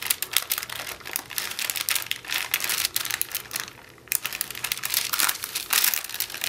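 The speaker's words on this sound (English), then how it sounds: "It's dry, so I'm going to peel it off now." A dried glue heart pendant being peeled slowly off its backing, giving a dense run of close crinkling, crackling and sticky tearing sounds with a brief quieter pause midway.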